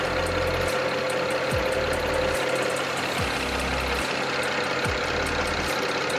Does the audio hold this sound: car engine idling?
yes